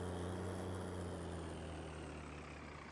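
Farming Simulator tractor engine in a Madison County farm map, a steady low droning hum with harmonic tones, continuous and fairly loud with no talk over it.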